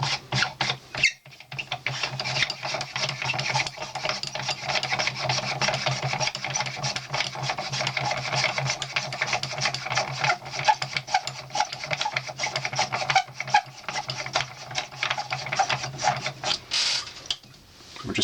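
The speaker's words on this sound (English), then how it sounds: "We'll just pause for the screw installation." A screwdriver drives screws into a turntable stand with steady, close rasping and grinding, continuous for most of the stretch and broken by a short pause and a brief burst near the end.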